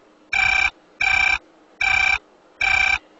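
A telephone bell rings four times in a short film, each ring a loud, even burst of about a third of a second with a brief silent gap between them. No one speaks over it.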